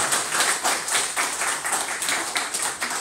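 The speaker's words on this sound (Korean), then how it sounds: "크게 박수로 환영해 주시기 바라겠습니다." A church congregation claps to welcome newly honored elders at a thanksgiving service, with fairly soft, rhythmic applause pulsing steadily for about three seconds.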